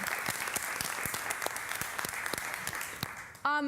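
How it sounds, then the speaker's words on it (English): Conference audience claps in a brisk round of applause, individual claps distinct and moderately close, ending with a sudden different tonal sound at the very end. "I think we should give them a quick round of applause."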